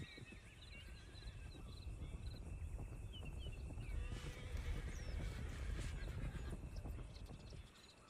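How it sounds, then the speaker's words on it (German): Horses in the video game Red Dead Online whinny and snort amid clopping hooves and rustling ambient noise, with a rising neigh in the middle and no talking. "Das sind Pferde."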